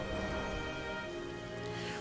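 Steady rain falling in the Hidden Forest of the game Sky: Children of the Light, a continuous dense patter over faint tonal ambient music, with no voices.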